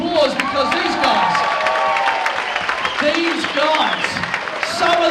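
Audience applause at a dance event, a steady wash of clapping and crowd noise lasting throughout, with people talking over it.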